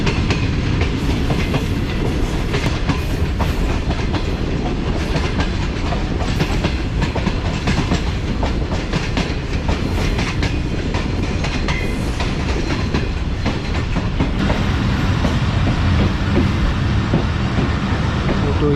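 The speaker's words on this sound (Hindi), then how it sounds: "ट्रैक चेंज करके लूप लाइन पर आ चुकी है ट्रेन" The Fareed Express passenger train runs on the loop line into Bahawalpur station, a continuous loud rumble with rhythmic clickety-clack of wheels over rail joints heard from on board.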